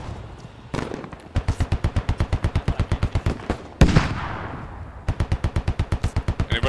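Rapid bursts of 50-caliber machine gun fire in the Global Escalation game mod, loud, evenly spaced rounds in long strings, broken by a heavy thump and a short pause before firing resumes.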